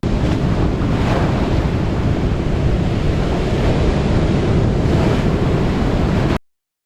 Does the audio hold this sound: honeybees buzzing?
no